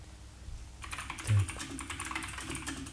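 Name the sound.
intense computer keyboard typing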